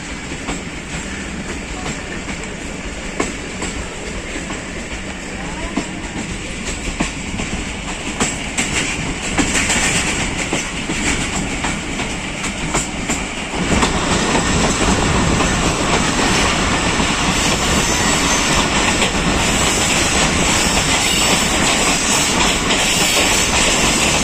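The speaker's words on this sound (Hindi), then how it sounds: "फ़कीर हुसैन शहीद रेलवे स्टेशन स्लो स्पीड में क्रॉस कर रही है कोहाट एक्सप्रेस।" The Kohat Express rolls slowly through Fakir Hussain Shaheed railway station in Pakistan, a loud continuous rumble with steady clickety-clack of wheels and hissing that swells fuller about halfway through, with no talk.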